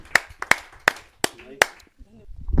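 Five sharp, scattered claps ring out at a Hindi poetry gathering as the audience welcomes a devotional-song performer. The claps are spaced unevenly and are followed by quiet and a low rumble.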